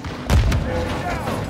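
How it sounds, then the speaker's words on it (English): In Call of Duty Modern Warfare 2, a grenade goes off with a heavy, booming blast early on, followed by rumbling gunfire and battle noise, with voices shouting over the combat. "They're launching grenades."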